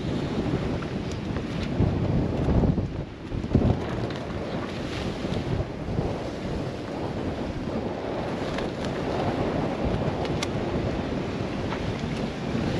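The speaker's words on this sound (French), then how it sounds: "Les deux moteurs sont allumés." A steady low drone from two boat engines runs throughout, buried under heavy wind buffeting and rushing water, loud and continuous.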